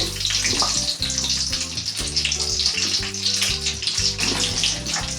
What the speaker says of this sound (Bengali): আলুটা ভাজবো বলে দিলাম, এগুলো আলুটা আমি এই দিয়ে দিচ্ছি